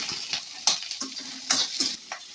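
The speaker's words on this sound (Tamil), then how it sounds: "கடாயை அடுப்பில் வச்சு எண்ணெய் காய்ஞ்ச உடனே வெங்காயம்," Onion and tomato hitting hot oil in a kadai, loud close sizzling bursts paired with rhythmic scraping strokes of a spatula stirring every half second or so.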